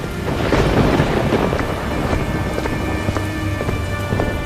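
Heavy rain pours down steadily and loudly, with a rumble of thunder swelling early on and droplets pattering throughout.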